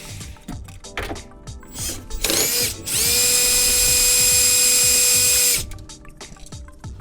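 A ratchet loosens a 10 millimeter bolt on a car panel during a Sigma amp upgrade, with short clicks and scrapes before a steady, loud mechanical whir lasting a few seconds, then more small handling noises.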